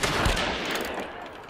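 Gunfire in the video game Hunt: Showdown, a loud, dense burst of shots at the start that tails off into a rumbling decay, with no talking.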